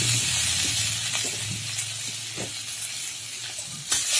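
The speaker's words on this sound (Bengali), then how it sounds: "আদাটা একটুখানি লাল লাল করে ভাজা হয়ে গেলে কাঁচা গন্ধটা চলে গেলে" Ginger paste fries in a pan of hot oil for a bitter-gourd dal, producing a steady close sizzle and hiss with a few faint stirring taps and no speech.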